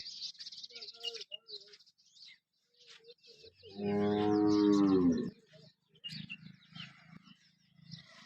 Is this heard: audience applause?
no